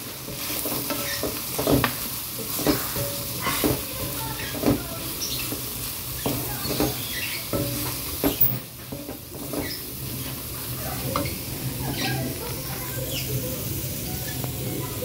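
Grated carrots are stirred in a frying pan for spaghetti, with steady sizzling and repeated scraping strokes of the spatula against the pan at an uneven rhythm, fairly close, with no talking.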